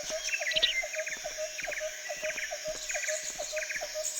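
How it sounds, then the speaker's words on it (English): Repeated short bird chirps in the Metal Gear Solid video game, steady and moderately close over a constant ambient hum, with a sustained lower tone and faint insect-like buzz, no talking. "It's a bird, mate."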